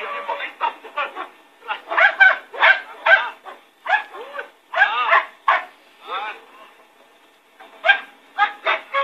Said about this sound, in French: On entraîne leurs chiens.